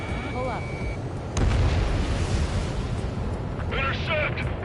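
Explosions and anti-aircraft fire rumble in Ace Combat 7, with a heavy boom partway through and a continuous low barrage beneath radio voices.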